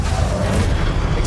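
A Confringo blasting spell in Hogwarts Legacy goes off as a short, loud, deep rumbling boom that fills the moment without any talking.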